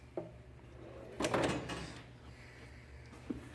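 A drawer slides open on a Milwaukee tool box holding air tools, giving a faint click and then a short rolling rumble of the slide. A soft tap follows, all at low level in a quiet garage.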